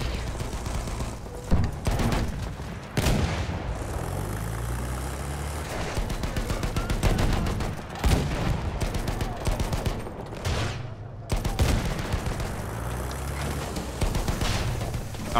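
Dense bursts of gunfire from Battlefield 1 fill the fight, with rapid automatic fire and scattered heavy shots, loud and continuous. A tank engine rumbles underneath.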